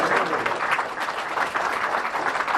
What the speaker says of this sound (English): That's worth a round of applause right there.